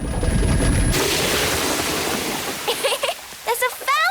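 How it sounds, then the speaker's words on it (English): Cartoon water gushes loudly from a magically repaired tap in a gnome renovation scene, a steady rushing splash that tapers off while voices and bright chirpy sounds break in near the end. "There's a waterfall coming out of the sink."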